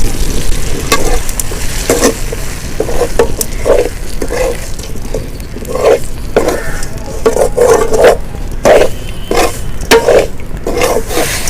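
Tomato masala with chilli powder fries and gets stirred in a pan for a fish kulambu, a loud continuous sizzle broken by repeated scraping strokes of a spoon at an uneven rhythm.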